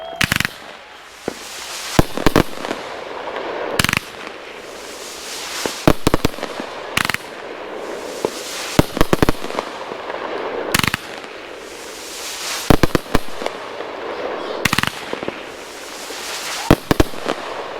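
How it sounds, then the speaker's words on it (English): A Dominator DMX 5210 Colored Tip Serpents 25-shot fan cake fires outdoors, a steady run of sharp launch bursts and crackling pops in clustered volleys with brief gaps, loud and close throughout. "So this is Colored Tip Serpents 25 shot fan cake, DMX 5210."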